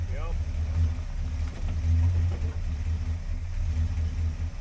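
A 1960 Chrysler Saratoga with a 383 big-block engine runs with a steady, deep low rumble close by. The level stays even throughout with slight pulsing and no sharp knocks.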